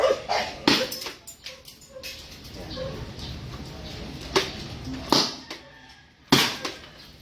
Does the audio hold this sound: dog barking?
yes